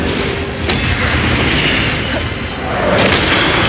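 Incendio fire spells cast repeatedly in Hogwarts Legacy, loud fiery bursts and whooshing blasts over busy combat noise, with a booming impact near the end.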